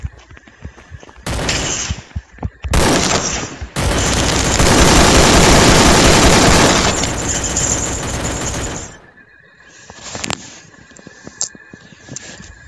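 Machine gun fire in a video game comes as short bursts, then a long sustained volley of rapid shots lasting several seconds. It is loud and close, and ends with a single sharp report after a pause.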